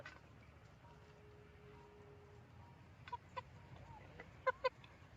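Chickens foraging outdoors in the evening, giving a few short, distinct clucks and calls near the end over a quiet, steady background hum.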